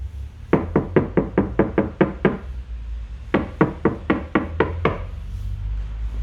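Knuckles rap on the soundproofed front door of a Genesis GV70 in two quick bursts of about eight dull, muffled knocks each, close and firm, with a brief pause between.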